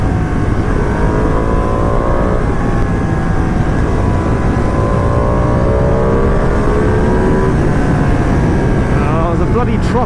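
A 2020 Ducati Panigale V2 motorcycle, run in and ridden at speed on the road, rises through the revs in several climbing, howling sweeps under a constant loud rush of wind, close and dominant throughout.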